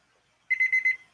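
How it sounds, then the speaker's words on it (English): A kitchen timer goes off during a live auction, giving a short burst of four quick high electronic beeps, close and clear, with no talk. "Timer."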